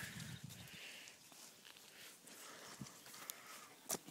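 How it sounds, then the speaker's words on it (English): Faint hoof clomps and shuffling of a horse moving about outdoors, with a few soft scattered thuds and scuffs in an otherwise quiet setting. "The horse is still there."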